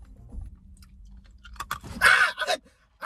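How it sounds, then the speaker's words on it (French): Ice being crunched and chewed between the teeth, a quiet lead-in and then a run of loud, close, crackly bites over about a second and a half, with no talking. "Prends une glace et croque là."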